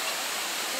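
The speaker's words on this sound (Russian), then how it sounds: "Вода там льется." Water pours steadily down a resort water slide at the Grand Palladium Lady Hamilton Resort in Jamaica, a continuous broadband rush with no pauses.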